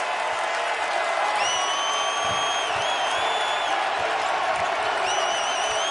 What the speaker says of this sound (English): it's Blue Jays basketball crowd